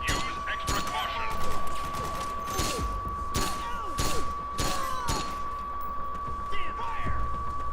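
Gunfire rings out in the video game Metal Gear Solid 4, with repeated sharp shots and bursts, some overlapping, over a steady electronic tone and game voices shouting orders.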